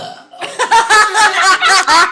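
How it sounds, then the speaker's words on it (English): A man lets out a long, loud, close burp, a rough croaking belch broken into several pulsing bursts lasting almost two seconds. "Now, watch this baby burp."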